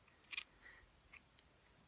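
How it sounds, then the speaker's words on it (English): Scissors snip yarn free from a pom-pom maker, a quick crisp double cut followed by a few faint clicks and snips, close and quiet with no talking. "I will take my scissors here and we're going to disconnect"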